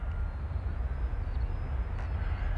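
An AtomRC x Eachine Seal RC model plane flies overhead, its electric motor giving a faint, steady droning whine against light wind.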